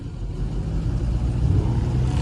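Steady, loud low engine rumble from a modified truck at a Detroit car show, holding a continuous throaty drone with slight rises in intensity throughout, no voices over it.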